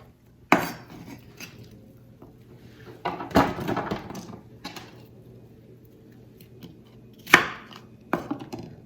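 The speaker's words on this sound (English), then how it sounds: "So I'm gonna do a very rough chop on these onions." Onions are rough-chopped into chunks with a knife on a cutting board, producing a few sharp, close knocks and slicing crunches spaced irregularly over several seconds, with no talking.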